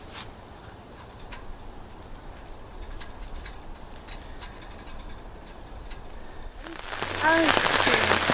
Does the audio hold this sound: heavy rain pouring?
yes